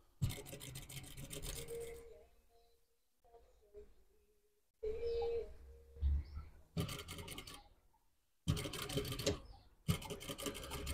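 Sewing machine topstitching safari shirt panels in short runs of fast, close mechanical whirring, broken by pauses where a person speaks quietly.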